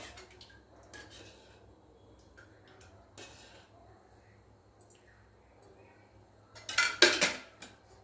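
A metal kadhai being handled on a stove as oil goes in, with scattered faint clinks and scrapes, then a louder clatter of the pan near the end.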